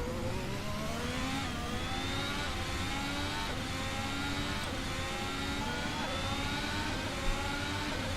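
An F1 2018 car engine in the Assetto Corsa racing game at the Australian Grand Prix screams at high revs, a continuous loud whine rising and falling through gear changes without pause.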